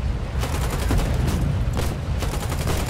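Sustained automatic gunfire from a machine gun in the Foxhole war game, rapid loud bursts with heavy low booms layered throughout, dense and continuous with no speech.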